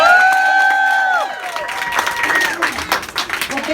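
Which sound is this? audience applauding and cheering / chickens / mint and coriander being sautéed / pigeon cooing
audience applauding and cheering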